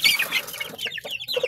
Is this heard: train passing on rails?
no